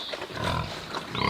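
Pigs in a pen inside a farm greenhouse grunt and squeal close by, a short steady burst of animal noise with no talking.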